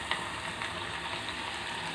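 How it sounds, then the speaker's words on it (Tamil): Roasted coriander and chili powder fry in hot oil with onions in a dense, steady sizzle that stays close and continuous, without talk or breaks. "அந்த பவுடரை இந்த எண்ணெயில் சேர்த்துக்கலாம்"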